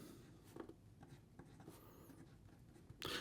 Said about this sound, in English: So here we go with the writing sample for the Visconti